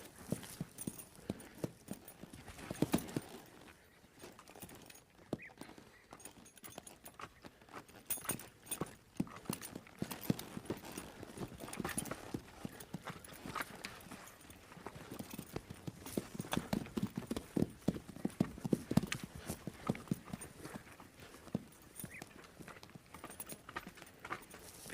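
A horse being worked on foot, its hooves clip-clopping in an uneven, shifting rhythm on firm ground, steady and moderately close throughout with no talking.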